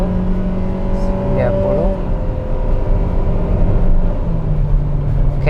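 A Mitsubishi XFORCE accelerates along a road, its engine note climbing steadily with shifting tones under road and wind noise, while a voice briefly calls out a number.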